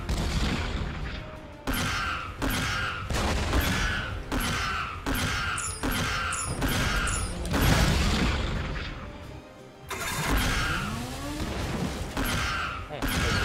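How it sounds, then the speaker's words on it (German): Repeated sharp gunshot blasts in the video game Skylanders: Spyro's Adventure, sounding in a steady rhythm of loud bursts over continuous dense noise and ambient game sound. "das ist ein etwas heftiger Schuss"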